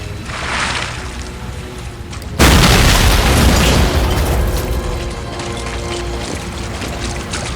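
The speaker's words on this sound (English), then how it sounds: "Demo this drainage grate" A drainage grate is blown apart in the Medal of Honor: Spearhead video game. A sudden loud, deep explosion hits after a stretch of quieter ambience, then the boom and rumbling debris slowly fade.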